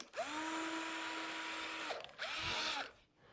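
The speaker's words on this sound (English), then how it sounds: "Let's grab a 10 mil drill." A power drill with a 10 mm bit bores into 12.5 mm plasterboard in two close bursts. Each burst is a steady, loud whine that rises with motor speed and then spins down, and no one speaks.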